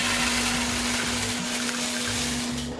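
A gas-fired drum coffee roaster runs with a steady loud mechanical hum and whir, a constant low drone with churning rumble beneath, holding a 2 kg batch of beans, no voices.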